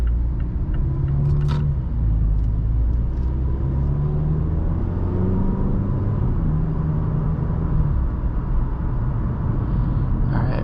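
A 2018 Mazda 3 Grand Touring cruises on the road, its engine and tyre noise forming a steady close low rumble with slight rises in pitch as it pulls along, no one speaking.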